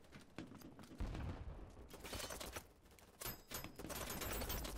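Enemy gunfire in BattleBit Remastered, rapid clattering bursts of automatic fire with some shots nearer and louder, coming in uneven volleys over a steady game background.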